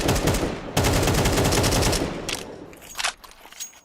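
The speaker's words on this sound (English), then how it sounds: "that's a big deagle to slow down Eternal Fire" Rapid gunfire bursts from a Counter-Strike esports grand final match between Monte and Eternal Fire, including Desert Eagle pistol shots, loud and dense at first, then thinning into scattered sharper cracks.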